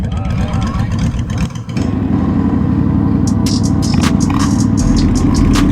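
Motorcycles rev as a group of riders sets off, producing a loud, continuous engine roar that thickens and steadies after a brief dip, with rough, wind-buffeted texture close to the mic.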